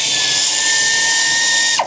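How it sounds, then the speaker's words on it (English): An air ratchet spins loudly and continuously up close while undoing exhaust manifold nuts on a Fiat Panda 100HP during engine removal, whirring at a steady high pitch before stopping abruptly. "my air ratchet, and we'll smash all the exhaust manifold bolts out, manifold nuts"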